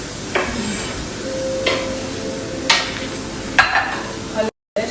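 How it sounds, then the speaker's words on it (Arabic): Onions frying in a pan for kabsa, a soft steady sizzle broken by several sharp clinks of a utensil against the pan at irregular intervals, close by, ending in a brief dropout of silence. "نحمر البصل نخليه ينحرق شوية"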